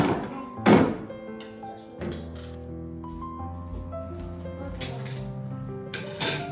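Plates and dishes clink and thunk as they are set down and passed around for a home chicken meal, several sharp knocks over a steady background of talk and household sounds.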